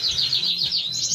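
Goldfinch and cinnamon greenfinch mule hybrids, kept as cage birds, twitter in a steady run of bright overlapping chirps close by, with a low hum underneath and no voices.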